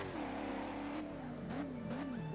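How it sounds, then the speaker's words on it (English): A Volvo car engine revs in a Roblox game, a steady close engine drone that rises and falls in pitch through several revs without pause. "this car is so fire. It sounds really good too."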